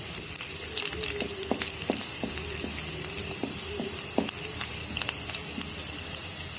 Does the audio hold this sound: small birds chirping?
no